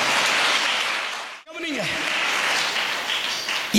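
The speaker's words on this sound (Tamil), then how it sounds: "கைத்தட்டி ஆண்டவருக்கு ஸ்தோத்திரம்." A church congregation claps in praise of God, a dense, steady wash of applause that briefly dips and then resumes, fairly loud throughout.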